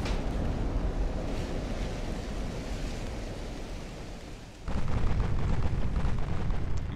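Torpedo explosions striking a warship in the naval strategy game Ultimate Admiral: Dreadnoughts, a continuous rumbling roar of blasts that drops briefly and then surges louder, with no speech.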